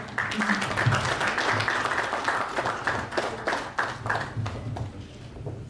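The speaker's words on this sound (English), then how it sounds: "Just keep clapping till he sets up." Audience clapping at a policy dialogue event, a moderate, steady patter of hands that fills the room, with some voices murmuring underneath.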